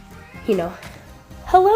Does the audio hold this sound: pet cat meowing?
yes